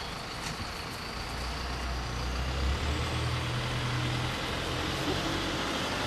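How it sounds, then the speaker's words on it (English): A UPS delivery truck passes outside, its low engine rumble rising and lingering at moderate distance beneath a steady outdoor background hiss. "That's a UPS truck."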